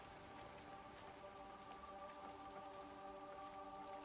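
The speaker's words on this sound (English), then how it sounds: "I think the rain's calming." Steady rain falls in the video game Everybody's Gone to the Rapture, a soft continuous patter with faint background tones.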